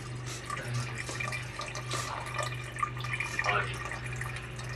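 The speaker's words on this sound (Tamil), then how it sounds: "அடுத்து அரிசி முங்குற அளவுக்கு தண்ணி ஊற்ற போகிறோம்." Water poured into a pot of rice trickles and splashes faintly with uneven spatters over a low steady hum, with soft background murmurs.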